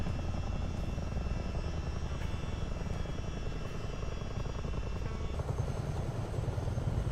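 Chinook helicopter in Microsoft Flight Simulator 2024 produces a constant loud rotor drone with a steady engine whine, continuous and unbroken, with no voices.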